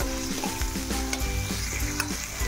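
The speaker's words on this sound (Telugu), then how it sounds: "ఈ పోపు వేగగానే దానిలో వేసేస్తాను" Spice tempering sizzles and crackles in hot oil for a home-made rasam, a steady close frying hiss with repeated soft pops and stirring taps, no voices.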